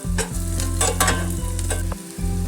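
Onions sautéing in a pan for a spinach dosa batter, a steady loud sizzle with scraping stir strokes over a low constant hum, no talking.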